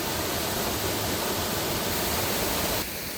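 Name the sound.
water falling at Gusong waterfall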